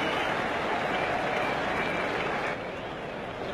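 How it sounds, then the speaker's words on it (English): Sustained applause from a crowd at a cricket match, a dense continuous wash of clapping that eases slightly toward the end. "Round of applause."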